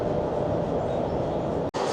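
An intercity train to Guangzhou, China rumbles along in a steady, loud, broadband roar of wheels and carriage noise, with a brief dip near the end.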